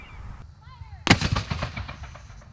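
A single loud cannon blast booms out abruptly at the historic Fort Scott, its rumble echoing and fading over a couple of seconds, with faint background noise beforehand.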